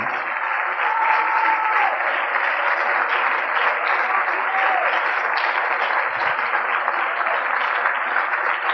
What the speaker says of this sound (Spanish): Dele un aplauso a Él entonces.